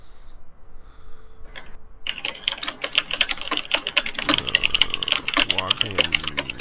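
Fast, dense typing on a computer keyboard, a steady clatter of close key clicks that starts after a brief quieter lead-in with a faint tone and continues without pause.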